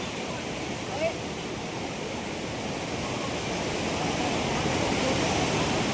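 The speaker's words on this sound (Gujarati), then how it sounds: "આ નદી ખડખડ જોઈ લ્યો અવાજ" Fast mountain river rushing past the gurudwara and steaming hot springs at Manikaran in Kullu, Himachal Pradesh, a steady broadband roar of turbulent water that holds even and fills the whole clip, close and loud.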